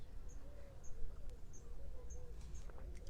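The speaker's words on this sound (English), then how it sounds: "Can you hear the birds?" Birds chirp outdoors with a few short high calls repeating faintly over a low breezy background hum.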